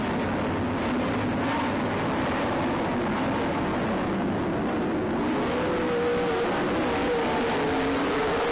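Stock cars race around a track in a continuous engine roar, with a higher engine note rising and passing near the end; no talk is heard.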